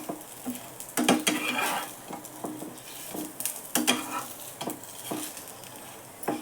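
Ragda patties pan-roasting on both sides, a soft continuous sizzle punctuated by repeated metallic clatters and scrapes of a spatula against the pan, close by and with no voices.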